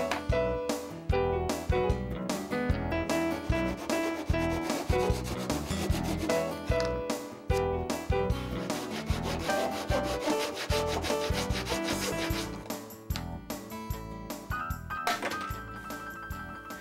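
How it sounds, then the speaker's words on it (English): A Japanese handsaw cuts through an oak strip and a wooden carriage part together, giving a steady, close rhythm of rasping push-pull strokes that carries on for the whole stretch without any talk. "using my Japanese handsaw, I cut through both the oak strip and the carriage part at the same time"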